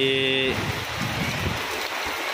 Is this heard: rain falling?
yes